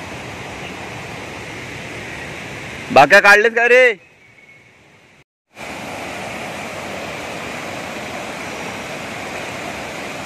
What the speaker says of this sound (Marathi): कालच्या पेक्षा आज पाणी वाढलंय मित्रांनो. आणि काल या धबधब्याला कमी पाणी होतं